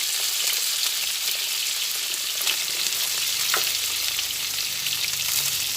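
Pointed gourd frying with turmeric and salt in a pan, giving a steady close sizzle with occasional stirring scrapes, continuous and fairly loud throughout.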